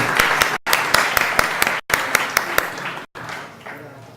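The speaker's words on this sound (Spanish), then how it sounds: "con un aplauso recibimos a Juan Vila y Natalia San Pietro" An audience at an Internet Day workshop on government and public data applauds to welcome speakers, dense clapping broken by brief cuts, then fading into room noise.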